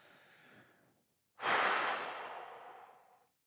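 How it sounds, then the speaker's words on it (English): A person takes a slow deep breath in, then lets out a longer, louder sigh-like exhale, close and alone in quiet. "Close your eyes and take a deep breath."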